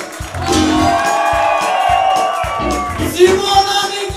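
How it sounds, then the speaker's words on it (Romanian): An audience at a live music show at Moara cu noroc cheers and shouts for the soloists; loud crowd whoops and calls rise over lingering music, with voices throughout. "Aplauze pentru soliștii noștri!"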